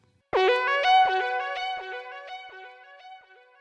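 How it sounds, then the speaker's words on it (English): A synth melody plays alone, its notes soaked in a springy reverb that adds a slightly metallic, bouncing tail as the phrase fades. "and a spring reverb."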